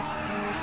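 A car's tires squeal continuously as it spins a donut in GTA V Online, a loud sustained screech with engine noise and no talking.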